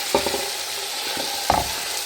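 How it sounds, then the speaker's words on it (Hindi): Onions browning in oil for mutton chaanp karahi, a constant sizzle with two distinct stirring scrapes of the spoon against the pot, up close. "ये अब हम इसको पहले प्याज ब्राउन करेंगे"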